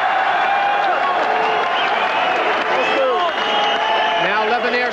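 A kickboxing arena crowd roars and cheers in a sustained, loud wash of voices with whistles and whoops, while a commentator talks over it.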